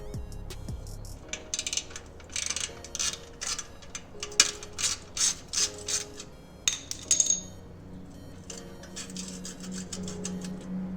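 Ratchet clicking as it loosens the muffler clamp bolts on a Harley-Davidson Low Rider FXLR, a series of quick metallic ticking bursts in regular strokes, close and clear over a quiet garage background with no talk.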